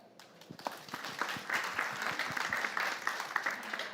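A conference audience applauds Ambassador Jeffrey Pyatt, Assistant Secretary of State for Energy Resources, at a high-level clean energy panel on Ukraine's recovery. The clapping is steady and dense throughout and stays fairly even in loudness.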